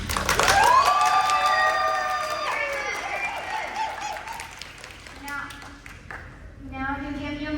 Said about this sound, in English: anyone who believes the defendant is innocent should applaud now